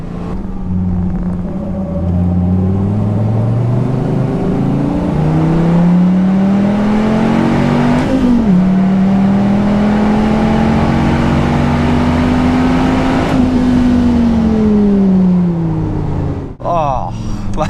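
A Dodge Viper ACR's engine drones loud and close from the cabin on track, pitch climbing steadily through long pulls with brief dips at gear changes, a deep rumbling growl throughout.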